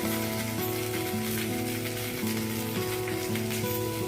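Ginger garlic paste hits hot oil already holding cumin, curry leaves, sesame seeds and asafoetida, giving a steady, close crackling sizzle that runs the whole time beneath tonal background music.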